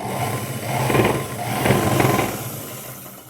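A sewing machine whirs in a steady motorized run while stitching a Punjabi dress, swelling and easing slightly through the short stretch, with no voices.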